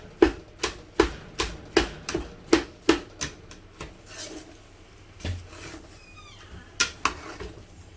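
Rapid, regular knife chops on a board while making chilli, a dozen sharp, close knocks in steady rhythm, then a few scattered scraping and stirring knocks in a pot.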